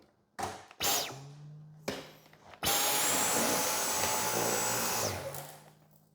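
A Dyson V10 Animal cordless vacuum on its lowest setting sucks up detergent powder, starting with a few short bursts and then running in a steady loud whine for about two and a half seconds before cutting off.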